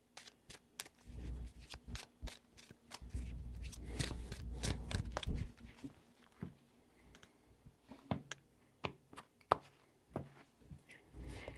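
Tarot cards being shuffled by hand, soft riffling and flicking bursts with scattered sharp clicks and taps, quiet and close, no talking.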